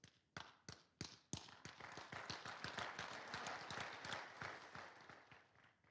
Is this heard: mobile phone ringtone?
no